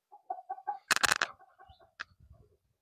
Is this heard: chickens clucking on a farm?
yes